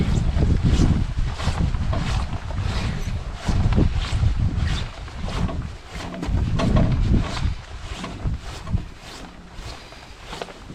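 Strong wind gusting across a large lake during a solo canoe trip in northern Saskatchewan, roaring and buffeting in uneven surges with rough low rumble, loud and close throughout.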